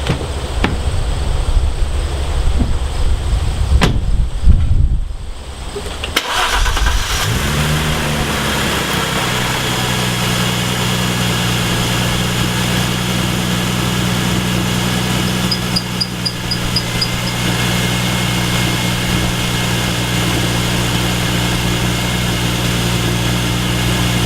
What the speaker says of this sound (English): A little bit of a squeak there intermittently, but nothing like what it was before.